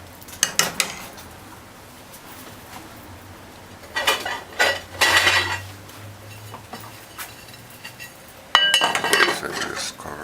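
A metal lid knocks and clinks against a pot of stew peas in a few short bursts, with quiet gaps between them. The clatter comes from close by and no one speaks.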